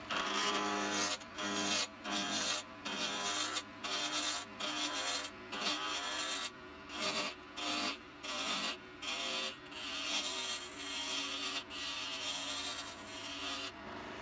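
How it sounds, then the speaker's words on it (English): A roughing gouge cuts a rectangular wood blank on a spinning lathe, producing a steady rasping, chattering hiss broken by rhythmic short gaps as the tool bounces against the square corners; close and fairly quiet. "I use my roughing gouge to turn the rectangle into a cylinder."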